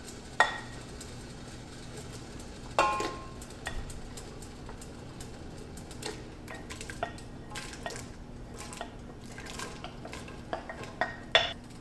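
Ingredients such as onions and diced tomatoes go into a pot of boiling water, with scattered clinks of utensils against the pot, soft splashes and stirring over a steady low bubbling hum, no talking.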